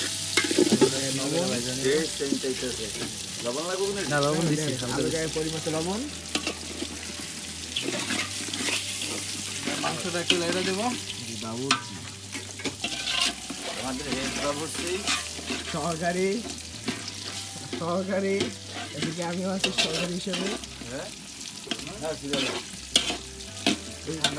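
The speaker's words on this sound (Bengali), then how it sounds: "এটা পিচে পিচে ভেজে নেওয়া হচ্ছে" Pieces of food frying in oil at a village picnic cook-out, a steady sizzle with repeated stirring and scraping clatter running throughout, fairly close and continuous, with background music-like tonal sounds mixed underneath.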